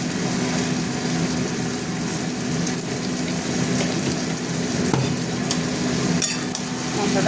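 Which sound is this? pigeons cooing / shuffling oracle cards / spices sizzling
spices sizzling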